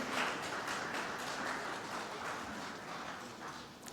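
Steady applause fills a hall at the opening ceremony of a marine oil spill and search-and-rescue event. The clapping is dense and continuous at moderate-to-faint level, with no clear voices over it.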